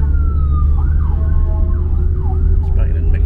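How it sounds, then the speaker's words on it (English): An ambulance siren wails from behind a car in traffic, its rising and falling tone heard faintly over a loud, steady low road and engine rumble from inside the vehicle. "we got an ambulance coming up behind us"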